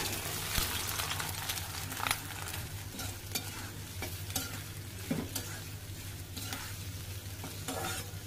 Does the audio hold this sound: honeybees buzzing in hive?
no